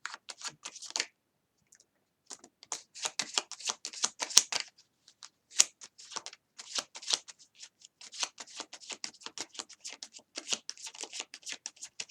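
Tarot cards shuffled repeatedly in close, crisp bursts of riffling and flicking, with a short pause early on before the steady shuffling resumes.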